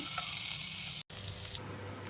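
Butter sizzling in a pan on a gas stove while making tomato soup, a steady bright frying hiss close up, briefly cut out mid-way, then resuming a little softer.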